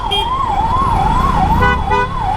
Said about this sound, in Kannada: ಆಂಬುಲೆನ್ಸ್ ಐತೆ ಈ ಕಡೆ ಆಗೋ.